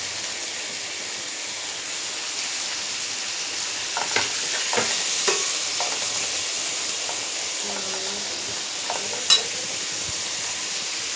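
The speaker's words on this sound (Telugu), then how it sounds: "ఇప్పుడు నేను టమాటా వేసేస్తున్నాను." Steady hiss of frying in a pan as tomatoes go in with onions, curry leaves and green chillies. A handful of soft clinks and stirring knocks sound over the continuous sizzle.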